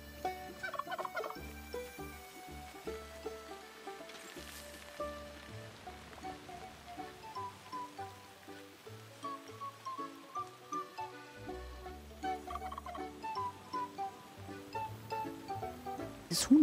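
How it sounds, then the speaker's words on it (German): Farm-game fowl in Luma Island gobbling and clucking repeatedly over steady music, with a patter like rain in the background; no talk. "Dieses Huhn, ne? Dieses Huhn nervt mich richtig."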